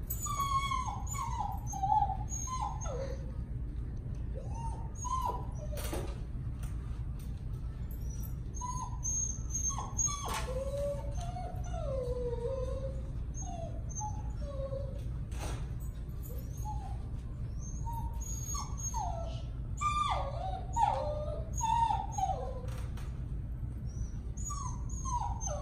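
A dog whines and whimpers in a long series of rising and falling cries, with a steady low hum underneath throughout.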